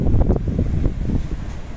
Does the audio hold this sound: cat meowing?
no